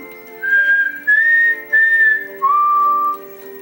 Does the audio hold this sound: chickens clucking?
no